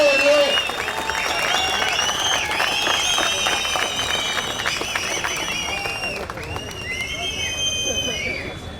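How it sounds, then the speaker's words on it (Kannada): Loud applause from a crowd at a rally, dense clapping with cheering and shouts rising over it, sustained for several seconds under a mix of voices and whistles. "ಜೋರಾದ ಚಪ್ಪಾಳೆ ಹೊಡೆದು."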